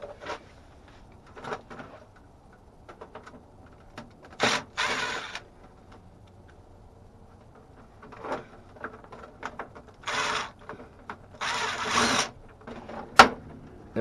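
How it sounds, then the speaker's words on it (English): Impact driver backing out screws from a car's AC control panel, heard as a few short, sharp whirring bursts amid light clicks and handling of plastic trim, close and separated by quiet gaps. "Impact driver is not the right tool for the job"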